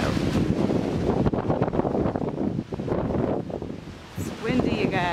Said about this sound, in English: It's windy, you guys.